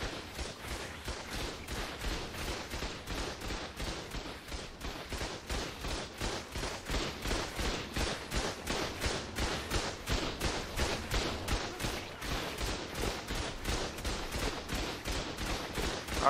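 Turret gunfire in the game Ark fires continuously during a PvP base raid, a rapid, evenly spaced stream of loud shots that keeps going without a break for the whole stretch.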